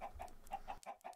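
Minecraft chickens clucking in a game, giving a quick series of short, soft clucks in an irregular rhythm, close and clear with no talk.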